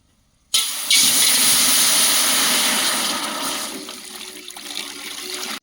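Water poured into a cooking pot for village-style ragi mudde with pork sambar, a loud close gushing rush that starts abruptly, holds steady, then eases into a lighter trickle, with no talking.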